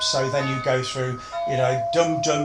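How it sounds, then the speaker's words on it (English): A home doorbell chimes with a sustained tone, heard beneath a man's ongoing speech. "that's my doorbell"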